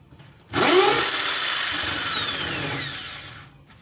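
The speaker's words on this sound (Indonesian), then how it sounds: "Lalu kita bor." A power drill whines loudly for about three seconds as it bores a hole, starting abruptly and winding down at the end, with no talking.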